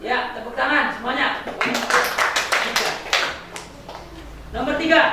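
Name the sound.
class of children applauding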